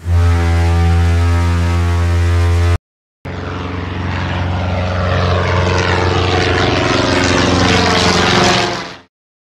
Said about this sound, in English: An airplane's engine roars.